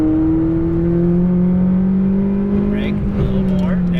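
McLaren 570S engine accelerating at full throttle on a Las Vegas track, a loud, close engine tone rising steadily in pitch and staying strong throughout, with a voice heard briefly near the end.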